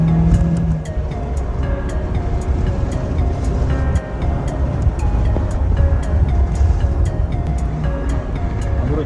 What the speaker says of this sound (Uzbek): Hozir bitta haydab ko'ramiz mashinani, tortishlarni ko'rasiz.